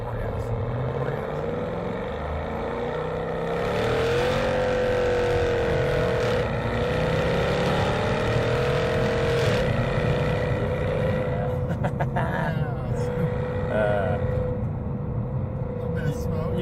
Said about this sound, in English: You can do burnouts in this car